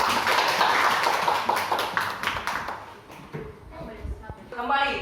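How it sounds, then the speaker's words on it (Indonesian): A class in a teacher-training session claps for classmates who answered questions. Brisk, fairly close claps fill the first few seconds, then thin out and give way to a voice talking. "Buat teman-teman yang sudah menjawab tadi, kita kasih tepuk tangan."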